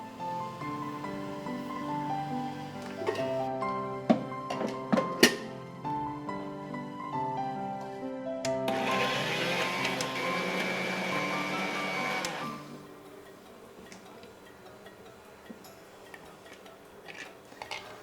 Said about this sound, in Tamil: இப்போ இதை நம்ம அரைச்சிடலாம்.